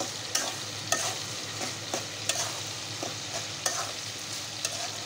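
Shutki bhaji of dried fish with onion and garlic frying in a pan, a soft steady sizzle punctuated by regular sharp scrapes and taps of the spatula, about once a second, with no voices.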